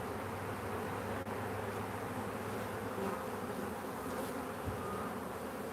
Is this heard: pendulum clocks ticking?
no